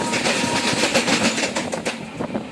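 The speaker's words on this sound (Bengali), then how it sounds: "আর বন্দে ভারতের স্পিড শুনেই বোঝা যাচ্ছে যে এটা বন্দে ভারত" A Vande Bharat express train rushes past at speed, a loud, steady rumble with faint rhythmic clatter of wheels over rail joints, heard alone without voices.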